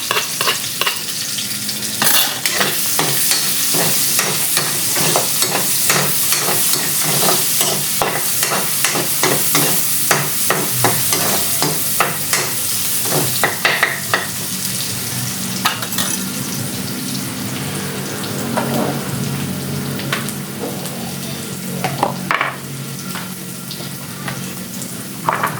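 Garlic and onion frying in a pan, a loud, dense sizzle with rapid, continuous stirring and scraping strokes close up, running without any voices.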